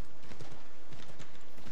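Horse hooves clip-clopping in a steady trotting rhythm, fairly quiet and close, from Assassin's Creed III with no voices over it.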